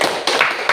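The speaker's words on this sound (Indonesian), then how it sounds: "beri tepuk tangan dong" A school classroom of students claps hands, a few loud close claps in an uneven burst.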